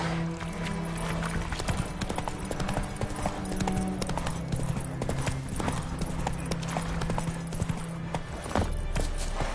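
Horse hooves clip-clop steadily in the video game Witcher 3, a brisk, even rhythm of close hoofbeats running throughout, with low background music and occasional game sounds beneath.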